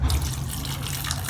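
Water poured into a pot of about twenty green chilies, a short, close, gurgling splash and trickle heard alone.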